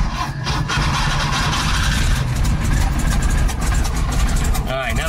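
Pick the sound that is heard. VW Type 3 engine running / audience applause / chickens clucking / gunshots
VW Type 3 engine running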